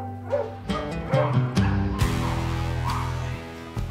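Rescued puppy mill dogs bark in short bursts and whimper close by as they are brought indoors, a mix of sharp yips and whiny cries with a low hum running underneath.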